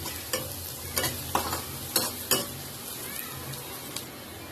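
Fenugreek greens tossed into sautéed onion in a pan, a crackling fry with several distinct stirring scrapes and clatters near the start, then a quieter steady sizzle, close and fairly soft, no talk.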